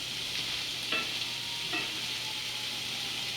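Food sizzles steadily in a hot cast iron pan, a dense continuous hiss with a couple of brief scraping stirs, close and unbroken, with no talking.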